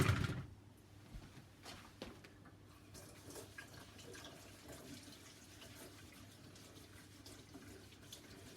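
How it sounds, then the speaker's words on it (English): Tap water runs into a sink during handwashing, starting with a louder burst and settling into a quiet, steady trickle with faint splashes. "I'm gonna wash my hands."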